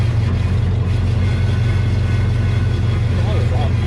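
A 1932 Ford Coupe engine idles with a steady, close low rumble and a faint regular beat, running on its first drive since the 1950s.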